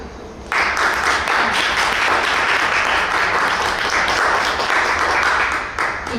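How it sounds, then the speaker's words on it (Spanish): At a literary horror gathering, an audience breaks into steady, full applause that starts abruptly and holds at an even level for several seconds. The clapping dips briefly near the end. "Un fuerte aplauso."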